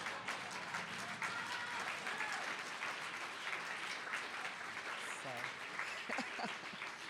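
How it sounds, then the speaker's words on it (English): Audience applause at an award ceremony, steady clapping from a seated crowd heard at moderate distance, continuous throughout with a few faint voices mixed in. "So, we know who led that round of applause."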